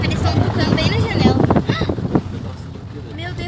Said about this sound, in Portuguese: Nossa, que vento.